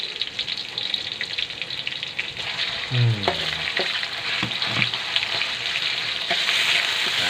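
Ground pork sizzles steadily in a hot pan while a utensil scrapes and clatters through it, stirring with occasional sharp knocks.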